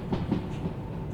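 A locomotive modelled on Eastern European designs rumbling along in the railway game Derail Valley, a brief low, steady rolling drone with faint rhythmic clatter.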